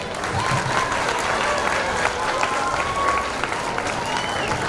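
Audience at a school annual day function clapping, a dense, loud, continuous wash of applause filling the whole stretch, with crowd noise beneath.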